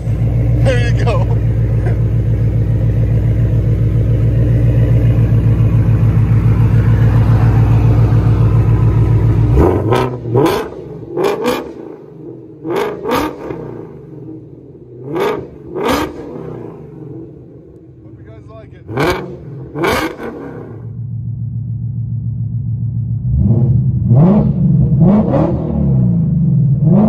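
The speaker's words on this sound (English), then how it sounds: "Ford Mustang GT 500." Ford Mustang GT500 engine roaring loudly at sustained high revs, then cutting out, followed by short sharp throttle blips with quieter idle between and a final rising rev, heard up close.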